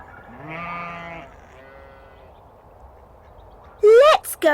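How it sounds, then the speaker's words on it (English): A farm sheep gives a drawn-out wavering bleat followed by a quieter, fainter one, then a person speaks briefly near the end. "Let's go and see the sheep."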